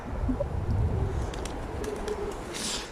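Pigeons in a loft area cooing, low soft coos repeated in the first half, with a brief rustle or flutter near the end and no talking.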